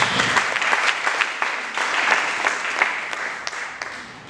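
Continuous applause from a church congregation, a dense patter of many hands clapping at a steady level throughout.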